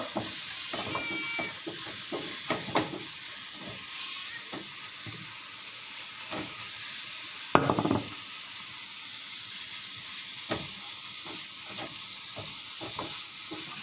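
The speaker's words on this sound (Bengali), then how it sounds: "মাছটা একদম শুকনো শুকনো করে ভুনা করবো, ঝোল রাখবো না।" Fish dry-fried bhuna-style in a pan with no gravy sizzles in a steady, close hiss, broken by scattered clicks and scraping stirs, one louder clatter near the middle.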